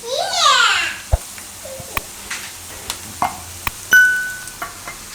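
Ginger, chili and garlic are stirred into onions frying in a pan, a short burst of sizzling followed by scattered spoon clinks and scrapes, while someone talks and a voice is heard nearby.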